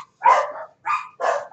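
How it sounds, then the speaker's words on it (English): A dog barks three times in quick succession, fairly close, with short gaps between the barks and no talking. "You'll have to forgive the dogs barking."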